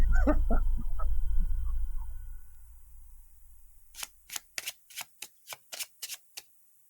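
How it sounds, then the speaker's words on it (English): Initiative cards for a tabletop roleplaying game are shuffled with a soft rustling sweep, then dealt in a quick run of about ten crisp, close card snaps. "we've got initiative cards dealt out"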